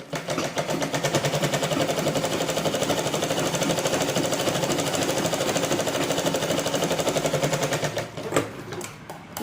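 A sewing machine runs steadily while stitching a blouse, giving a fast, even mechanical whirr with a rapid needle rhythm that lasts for about eight seconds and then stops. It is close and loud, with no talking.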